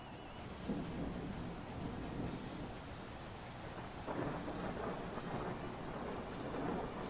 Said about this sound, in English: I'm going to play the rain sound.